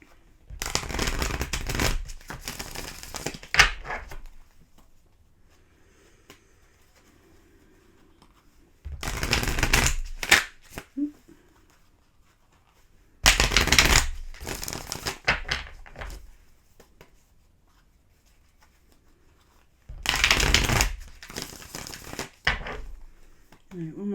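Tarot cards being shuffled by hand in bursts, four separate rounds of rapid riffling and slapping, close and crisp, with quiet gaps between them and a voice talking briefly in between.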